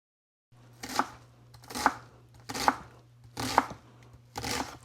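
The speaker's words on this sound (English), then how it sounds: "I don't even know for this if you need to cut these this small because we're going to blend it" Knife chopping vegetables for tomato soup on a board, five evenly spaced close cuts in a slow steady rhythm.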